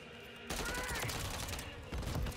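Gunfire from the shooter game Modern Warfare 3 bursts out suddenly and rattles on for about two seconds in a dense volley, with a voice faintly present underneath.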